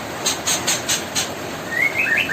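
White-rumped shama (murai batu) chicks, about 12 days old and just out of the nest, give a run of five short, evenly spaced high chirps, then a few thinner rising peeps, close by with no talk.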